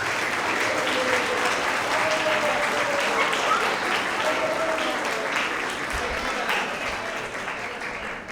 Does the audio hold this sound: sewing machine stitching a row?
no